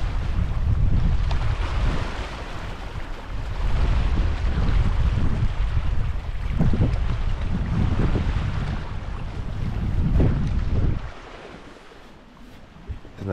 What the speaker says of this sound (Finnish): Tänä aamuna onkin vähän tuulisempaa sitten.